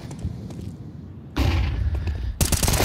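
Pistol gunfire in a Counter-Strike match on the Nuke map, a dense run of loud, sharp shots in bursts after a quieter stretch of game ambience, with a caster's voice faintly underneath.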